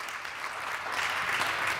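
Congregation applauding at a Feast of Unleavened Bread service, a steady wash of many hands clapping at moderate volume for under two seconds, with no speech over it.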